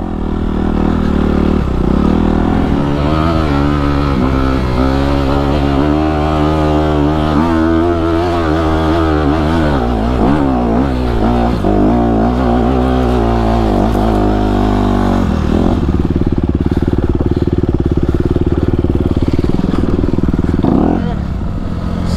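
A Honda CRF250RX dirt bike engine idles loudly and steadily close by, with throttle blips and wavering pitch through the middle before settling back to a rough idle, under a brief bit of talk.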